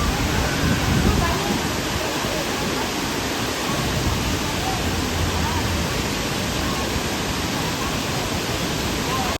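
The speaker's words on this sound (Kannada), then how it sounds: "ಇಲ್ಲಿನ ನೀರು ರಭಸವಾಗಿ ಧುಮ್ಮಿಕ್ಕಿ ಕಲ್ಲಿನ ಮೇಲೆ ಕೆಳಗಡೆ ಬಿದ್ದು ಹೊಗೆನ ಸೃಷ್ಟಿ ಮಾಡುತ್ತೆ." Hogenakkal waterfall plunging forcefully onto rocks below and throwing up mist, heard from a hanging bridge as a loud, steady broadband roar of crashing water throughout, close and unbroken.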